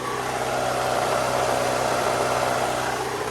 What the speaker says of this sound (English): The only issue that I can find under the hood is that grinding noise.